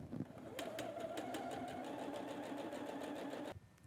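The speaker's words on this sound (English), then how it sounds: "I'll go ahead and sew those together." An AccuQuilt GO! Me quilt project has its fabric shapes stitched together on a sewing machine, which runs in a soft, steady whir with rhythmic needle ticks for about three seconds before stopping.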